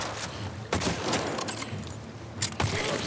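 Gunshots ring out in The Last of Us Part 2, with sharp loud bursts near the start and end over a dense, noisy combat backdrop.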